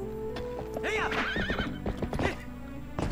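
A horse in the video game The Legend of Zelda: Twilight Princess whinnies loudly and clearly, with hoof clip-clops and rustling movement around it, and no talking.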